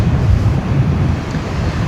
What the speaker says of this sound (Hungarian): Úgyhogy ez itt a Balti-tenger